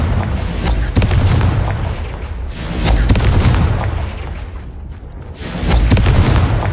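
Loud booming blasts from the Confringo fire spell in Hogwarts Legacy, several heavy explosions rolling in waves with rumbling tails, no talking.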